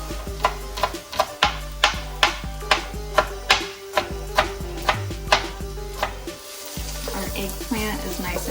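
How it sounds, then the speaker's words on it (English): Knife chopping fresh mint, garlic chives, parsley and dill on a board, a run of about fifteen sharp, evenly spaced chops, loud and close, with brief pauses before the cutting resumes. "So we'll have some mint, some garlic chives, some parsley, and some dill. And we'll chop all of it up pretty nicely."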